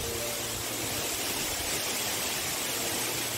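Steady broadband roar of the Lágrima del Indio waterfall near Copina in the Altas Cumbres, reached by a steep descent, filling the whole clip with constant rushing water and no voices.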